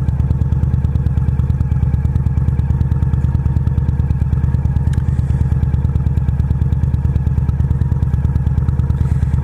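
Motorcycle ridden along a harbor road, its engine a steady, close, continuous drone with a rhythmic low pulse and faint clatter, unbroken throughout with no voices.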